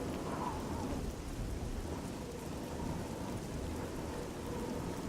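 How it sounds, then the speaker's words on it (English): Heavy rain and rolling thunder in the video game Oblivion, a dense continuous downpour hissing on surfaces with low thunder rumbling underneath, steady throughout with no talking. "This rain is not letting up."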